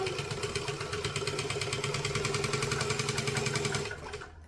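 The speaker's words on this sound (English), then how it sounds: "So now we can just continue sewing." A sewing machine stitches fabric in a steady, rapid mechanical chatter of evenly spaced needle strokes, running close and continuous for nearly four seconds before stopping.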